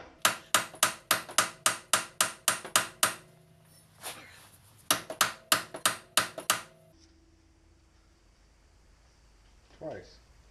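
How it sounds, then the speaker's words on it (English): A big hammer strikes bad suspension parts on a Lincoln Town Car, ringing out in two fast runs of about eight to nine loud metallic blows each, separated by a short pause, with a brief faint rattle near the end. "why are you using such a big hammer?"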